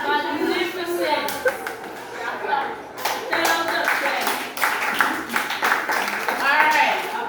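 Children clap in quick, uneven bursts, mixed with young voices singing and talking throughout, all close and fairly loud.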